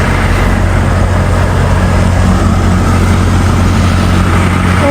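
Road traffic at a zebra crossing with a push-button signal, a steady loud rumble of engines and passing vehicles with a low hum, continuous throughout with no talk.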